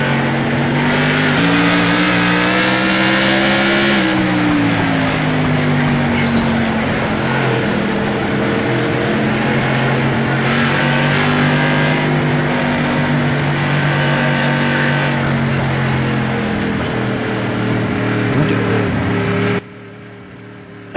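Loud modified race car engines roar and rev as cars lap the Stafford track, pitch rising and falling with passes, continuous throughout before cutting off abruptly.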